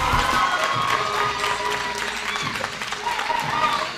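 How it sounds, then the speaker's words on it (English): Audience applause and cheering for debate winners, a dense crowd wash of clapping with shouts mixed in, loud and continuous throughout. "Round of applause for the winners"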